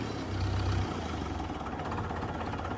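A Farmall Super MTA tractor's diesel engine idles close by, a steady low rumble with an even throb and a slight shift in tone early on, with no talking.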